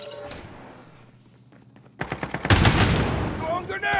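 A deployed shield turret in Call of Duty Modern Warfare multiplayer opens fire on the Vacant map, a rapid, loud burst of automatic gunfire that follows a quieter stretch with a few isolated thumps.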